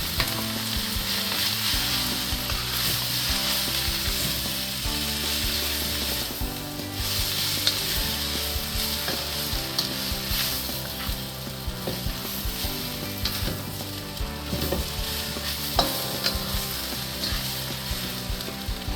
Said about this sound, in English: We're going to dump our noodles down in there.